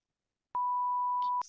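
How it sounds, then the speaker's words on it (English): A single steady censor beep sounds after a moment of silence, a pure tone lasting about a second, followed by a brief fragment of speech. "I'm literally going to beep it out because I think it'd be funny"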